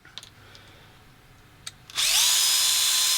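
Power drill whirring up to speed and running steadily, boring out holes in a metal tray on an RC crawler, starting after a couple of quiet faint clicks and staying loud and close to the end.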